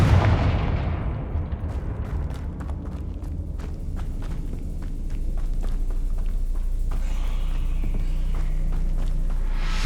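Confringo blasting spell in Hogwarts Legacy fires in a rapid series of sharp, punchy impacts over a rumbling low battle bed, dense and loud, with a sustained noisy blast swelling near the end.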